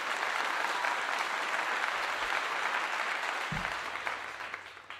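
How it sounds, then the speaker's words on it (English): An audience claps for a football player at a post-game gathering, a full, steady burst of applause that thins slightly toward the end, with a low thump near the close. "Clap him up."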